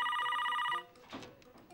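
A telephone bell rings with a bright, rapidly trilling tone for under a second, then breaks off into quieter, scattered room sounds.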